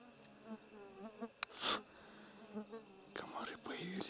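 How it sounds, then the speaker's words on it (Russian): Mosquitoes buzz faintly around the microphone outdoors during a goat hunt, a thin whine among soft whispery speech, with a couple of sharp rustling bursts. "Комары появились, кусаются."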